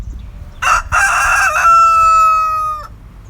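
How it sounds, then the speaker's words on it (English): A rooster at an RV park crows once, loud and close, opening with a rough burst and ending in a long, drawn-out ringing note. "I've been hearing this rooster over here crowing all morning."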